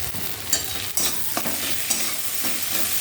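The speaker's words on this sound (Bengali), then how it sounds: "এরকম আমার পেঁয়াজ আর ক্যাপসিকামটা ভাজা হয়ে গেছে, লাল লাল হয়ে গেছে ভাজাটা। তাই এর মধ্যে এবার আমি টমেটোটা দিয়ে দেবো।" Tomatoes hitting a pan of onions and capsicum already frying red, giving a loud, constant sizzle with a few sharp spatula scrapes and clinks as everything is stirred.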